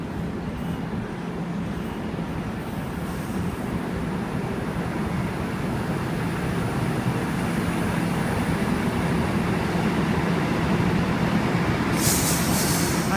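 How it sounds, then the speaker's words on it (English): The Armidale Moree Explorer passenger train rolls into a platform at Strathfield station, a continuous loud rumble of wheels on rails with brief squeals near the end and no talk. "Armidale Moree Explorer now arriving into platform number 3."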